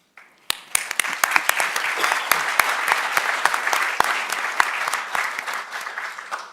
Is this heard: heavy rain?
no